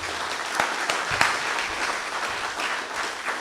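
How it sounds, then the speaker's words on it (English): An audience claps steadily after a university lecture, a dense even round of applause lasting the whole stretch with a few sharper individual claps standing out. "let's give Prof. another round of applause."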